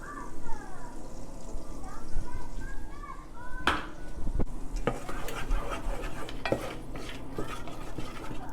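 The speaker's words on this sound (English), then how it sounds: "You're just gonna go ahead and caramelize, saute them a little bit." Onion and garlic sautéing in melted butter in a pan, with spoon scrapes and clattering utensil knocks against the cookware, close up. A high whiny mewing sound comes early on, and a voice talks in the background.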